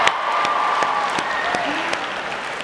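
Audience at a science fair opening ceremony in Dallas claps and cheers steadily, a dense wash of applause with sharp individual claps and a few whistles rising above it.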